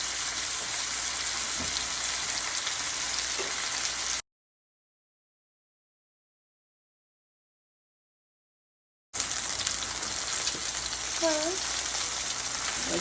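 Chicken pieces searing in a skillet give a steady close sizzle that cuts out completely partway through, then returns with the same bright frying hiss.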